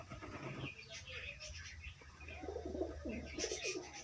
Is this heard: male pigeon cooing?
yes